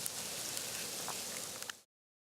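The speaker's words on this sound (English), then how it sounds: "no snow, but a lot of freezing rain" Freezing rain falls steadily in cold winter weather on the Mississippi Gulf Coast, a dense even hiss with a few sharper nearby ticks, continuous for about two seconds and then cut off.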